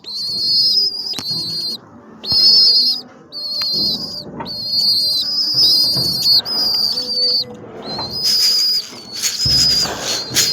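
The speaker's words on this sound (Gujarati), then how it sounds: "આ આપણે બે કબૂતર કુગવે જોઈ લ્યો" Two pigeons coo in a series of repeated soft calls close by, with pauses between calls and light rustling underneath.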